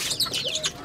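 Small birds chirp and coo near a home where pet rabbits are kept, in a quick, bright jumble of overlapping calls lasting under a second.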